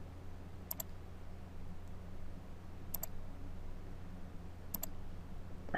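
Three faint, sharp computer mouse clicks, spaced about two seconds apart, made while tracing a selection with Photoshop's polygonal lasso tool over a quiet background hum.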